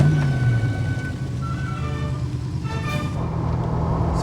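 A V8-powered Lamborghini Countach replica gives off a steady, deep engine rumble, close and loud, holding fairly even for a few seconds with slight swells.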